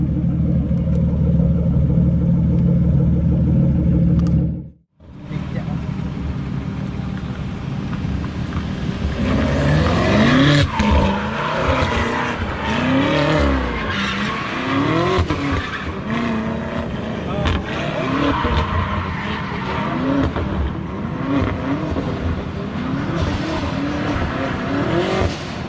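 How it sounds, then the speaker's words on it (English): A BMW E36 drift car with a straight-pipe exhaust and open differential roars loudly while its tires squeal; after a brief silent cut, the engine revs and wavering screeches continue strongly to the end. "Muiz, your car so loud. Is it on straight pipe?"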